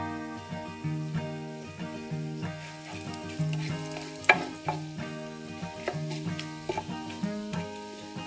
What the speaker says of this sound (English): Now my cinnamon stick is sizzling, and I will be adding in my fennel seeds.